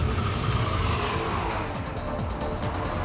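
Front-wheel-drive car understeering at speed with its front tyres washing out, a steady loud engine and tyre roar with scrubbing squeal running throughout, no voices.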